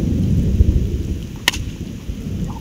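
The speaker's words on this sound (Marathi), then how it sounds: "पाऊस बिऊस पडतोय आता जोरात आहे" Heavy rain pours steadily during an outdoor cricket match, a dense hiss with a sharp crack of thunder midway, loud and close with no voices.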